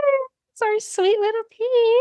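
A pet cat indoors meows several times in short, rising calls that are close and clear, mixed with a person speaking softly nearby.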